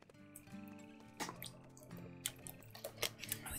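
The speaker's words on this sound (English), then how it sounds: "Always getting a drink of water." A wolf lapping water in WolfQuest: faint wet splashy laps and drips repeating irregularly over a steady tonal game music bed.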